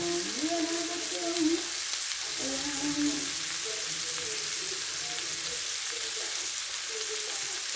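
Corn being sautéed for ginisang mais in a pan, a steady close sizzle and hiss of frying with occasional stirring scrapes and faint tonal kitchen sounds beneath, continuing throughout.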